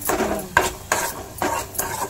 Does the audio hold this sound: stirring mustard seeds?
yes